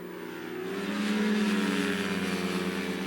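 Ultralight aircraft flying from a home front yard, a steady buzzing engine drone that swells slightly louder and holds close and continuous, with no talk over it.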